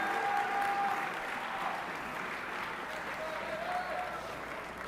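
Sustained audience applause fills a state assembly hall at a youth government event, a dense steady clapping wash lasting throughout with a faint whistle-like tone briefly above it.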